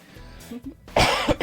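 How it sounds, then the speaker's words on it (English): A short, harsh cough bursts out close to the listener after a moment of quiet, followed by a second smaller cough. "I apologize if I'm coughing a little bit today"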